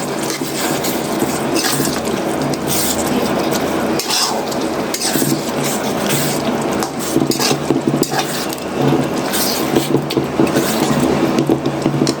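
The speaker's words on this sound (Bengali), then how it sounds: "ভালো করে নাড়িয়ে দিব মুগ ডালটা।" Mung dal being stirred in a cooking pot, with steady scraping and clinking of a spoon against the metal, continuous and close, with faint watery bubbling and no talking.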